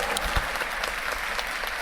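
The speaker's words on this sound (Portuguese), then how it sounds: "Palmas para ela, que ela merece." An audience at a beauty and micropigmentation talk claps steadily for a presenter, a dense, even wash of applause lasting the whole short stretch with a few sharper individual claps standing out.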